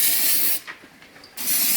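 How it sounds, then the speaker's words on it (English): Two hissing bursts from an aerosol can of rust treatment, separated by a brief pause, close and fairly loud. "just give it a clean from the inside and just spray a bit on"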